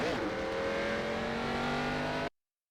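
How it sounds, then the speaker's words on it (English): NASCAR race car engine in the iRacing video game, a steady loud drone with layered engine harmonics, sputtering after a collision, running continuously for over two seconds before cutting off abruptly. "You can hear the engine too, just like sputtering after we hit him."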